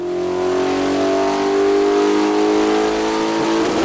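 A mid-engined V8 in a Volkswagen Beetle revs hard on a dyno, a loud, close, continuous engine roar that climbs steadily in pitch toward a rev limiter near 6,000 RPM, with no voices over it.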